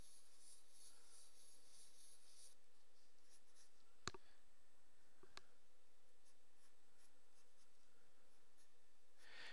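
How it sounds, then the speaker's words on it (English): Pencil sketching rough lines on paper for a Venom costume drawing, a faint, soft scratching of strokes in a quiet room, broken by two sharp taps. "I guess we'll keep going with pencil."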